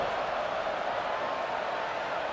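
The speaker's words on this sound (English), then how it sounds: "this crowd is buzzing after that last score" Stadium crowd buzzing after a score in the College Football 26 video game, Louisville vs. East Carolina: a steady, dense roar of many voices at constant level, with a commentator talking over it.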